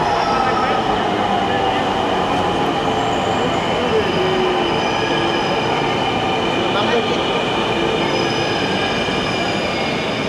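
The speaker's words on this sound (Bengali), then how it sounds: "ট্রেন অলরেডি চলে আসছে।" A Dhaka metro rail train pulls into a station with a steady, loud rumble and faint wheel squeal that fills the whole stretch without a break.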